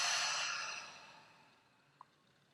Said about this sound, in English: And then exhale out your mouth.